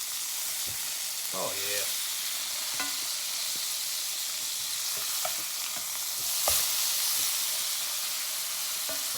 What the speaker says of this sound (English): We're getting ready to turn those burgers.